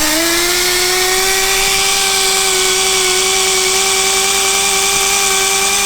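A power buffer polishes car paint on a rear-wheel-drive Honda Civic, a steady high motor whine holding one pitch throughout, loud and close with no voices.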